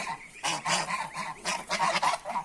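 Geese honk close by in a series of loud, nasal calls, several bursts overlapping in quick succession.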